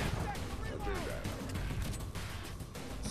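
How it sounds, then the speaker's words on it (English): Grenade blasts and gunfire in the video game Splinter Cell: Conviction, a dense, continuous barrage of shots and explosions at steady loudness, with a voice talking over it. "they're popping grenades?"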